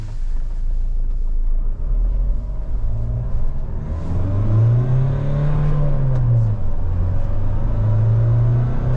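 A Mahindra Thar's engine runs in 4H four-wheel drive, a steady close rumble whose pitch rises and falls gently as it revs lightly without load, no one speaking.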